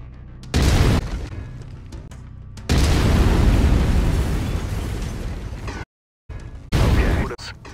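An autocannon fires from a mech in MechWarrior 5, producing heavy booming bursts: a short blast early on, then a long sustained volley of rapid explosive shots. A brief silence is followed by one more loud burst.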